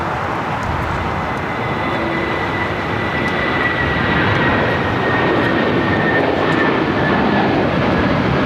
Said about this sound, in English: So Air New Zealand heading into one of the gates there on the southwest corner of Tom Bradley.